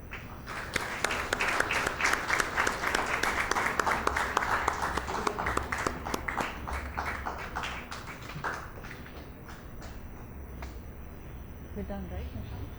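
Convocation audience for a postgraduate diploma program claps for the students, loud close claps that thin out and fade, with talk underneath and near the end.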